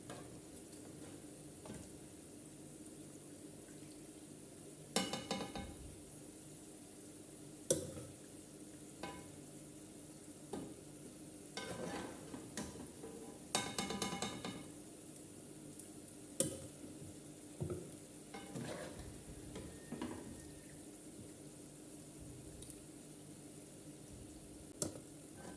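Semolina pastries fry gently in a pan of hot oil, heard as a quiet, steady sizzle broken by scattered scraping and clinking stirs and taps. The sounds are close but faint, and no one speaks.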